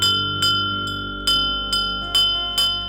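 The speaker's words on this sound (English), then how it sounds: "Karitata Rao runs towards the cyclone shelter and rings the bell." A bell at a cyclone shelter rings out in six evenly spaced metallic strikes, each clear and ringing, with tones sustaining and overlapping between hits.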